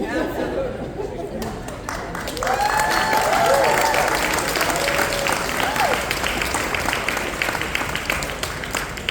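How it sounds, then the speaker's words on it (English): Gala crowd at a community organization's annual dinner applauds two longtime staff members, loud sustained clapping mixed with cheers and chatter throughout, with people talking underneath. "It's a round of applause for Danny and for Zuli for 48 years of collective service"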